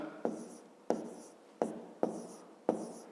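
Pen writing numbers by hand on paper during a fifth-grade maths exercise, five short sharp strokes each trailing off in a scratchy tail, close and quiet, with no talk.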